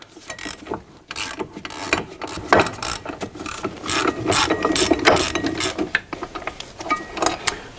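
Ratchet loosening a brake caliper bracket bolt on a Mercedes Sprinter, close and clear, giving irregular bursts of rapid clicking pawl strokes with short pauses between them, and no talking.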